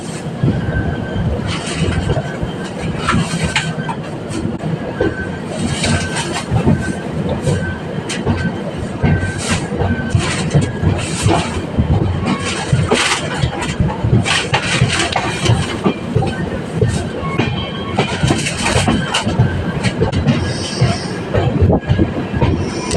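A train rolls along the rails close by, a loud continuous rumble with rhythmic clacking and high-pitched wheel squeals rising and fading.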